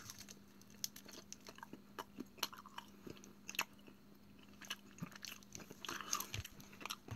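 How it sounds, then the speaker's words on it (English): Crunchy bites and chewing on spicy Mexican candy, close and quiet, irregular crisp snaps and crackles repeating over a low steady hum, with no speech. "I'll take a bite out."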